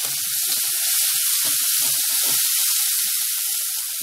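Green chillies drop into garlic-onion paste frying in a pan, setting off loud, steady sizzling with crackling pops and spits scattered over the hiss.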